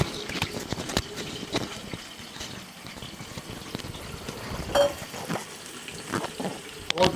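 Chopped onion dropped into hot cooking oil, frying with a continuous close crackling sizzle and occasional stirring clatter, no voices.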